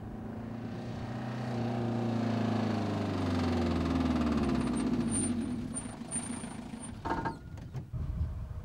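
A car engine with a fault idles steadily and loudly, a low rumbling hum with shifting tones, then stutters and breaks up toward the end.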